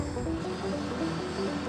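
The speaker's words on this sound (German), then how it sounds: "In unserem heutigen Versuch starten wir mehrere Drohnen" Several drones take off and fly together during an air-traffic test in Germany, their propellers producing an overlapping, steady buzzing whine with wavering pitches, moderately loud and close.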